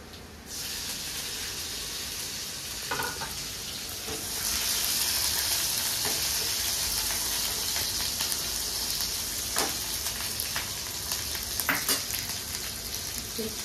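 Green chilies dropped into a hot frying pan for moringa soup, a steady hiss that swells into a louder, bright sizzle, with occasional clinks and scrapes of stirring, close and continuous with no talk.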